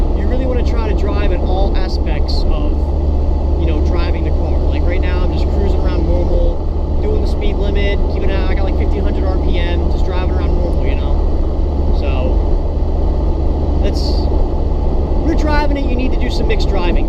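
A Jeep Cherokee XJ cruising at steady, normal speed, with a constant loud road and engine drone throughout and someone talking over it.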